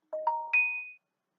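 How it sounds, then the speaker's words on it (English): A phone notification chime of three rising tones in quick succession, the last note ringing out clearly before fading, loud and close in an otherwise quiet room. "That's my phone going off."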